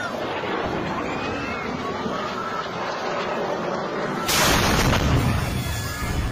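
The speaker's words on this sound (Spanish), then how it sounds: "Este es el preciso momento en que uno de los 370 cohetes Qassam, lanzados por las milicias del movimiento de resistencia islámico Hamas, cae en el centro de Ascalón" Qassam rocket striking central Ashkelon: steady ambient street noise gives way to a sudden loud broadband blast that persists as a rumbling roar for the last two seconds.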